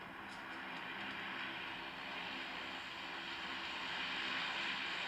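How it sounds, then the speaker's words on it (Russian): Two airplanes flying overhead, a steady distant jet roar that swells and fades gently across the sky with no talking. "Аж 2 самолета. Прикольно."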